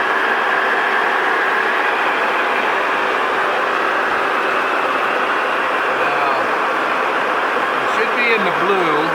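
A machine runs steadily with its clutch engaged and the table turning at about 155 RPM, a constant mechanical drone with faint whining tones near the end, heard under speech.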